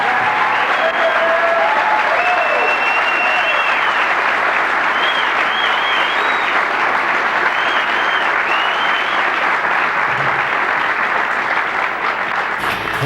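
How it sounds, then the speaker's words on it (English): Sustained, loud applause fills a tournament hall for a fourth place finish, a thick wash of clapping that holds steady for the whole stretch with faint voices underneath. "Joining me in an additional great round of applause for a 4th place finish"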